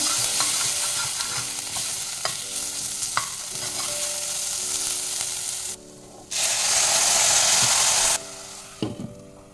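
Ginger paste stirred and sautéed into a spice mix with Kashmiri chili powder over low gas for a Bengali taro root fish curry, steady close scraping and sizzling with brief louder bursts near the end.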